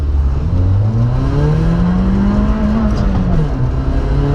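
A Citroën Saxo Rally 2.0 engine revs hard and climbs toward its rev limiter, a loud, close, strained drone rising in pitch and bouncing near the top, with no talking.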